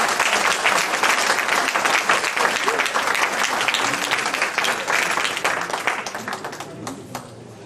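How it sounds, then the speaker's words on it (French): Sustained audience applause at a 2019 New Year's greetings ceremony in Pussay honoring a former mayor, dense clapping filling the room for several seconds before thinning out at the end, with faint voices underneath. "je voudrais vous demander d'applaudir Jacques Parrain pour son maire honorariat"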